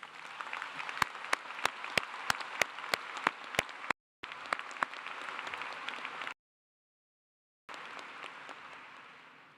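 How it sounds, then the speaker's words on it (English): A large audience at a Clemson University summer commencement ceremony breaks into sustained applause for families and friends, a dense wash of clapping with a few sharp, distinct claps up front and abrupt brief silences in between. "I think you all deserve a very loud round of applause."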